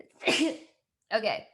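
A single sharp sneeze from a person close to the microphone, followed after a short pause by someone speaking briefly.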